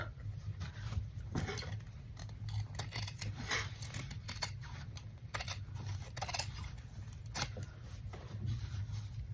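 Scissors make repeated quiet snips and rustles as they trim stitched fabric. The cuts come in an irregular series, close but faint.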